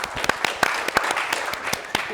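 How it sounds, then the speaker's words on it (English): A small business-event audience claps for the event's supporters, a scattered, uneven patter of individual hand claps filling the room at moderate volume. "We'll give them a round of applause as well."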